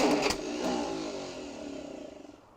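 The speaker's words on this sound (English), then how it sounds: "The starter's giving up on me like last second." Starter of a roughly fifty-year-old car cranking a reluctant engine, a short burst of strained whirring that sags and fades over a couple of seconds without catching.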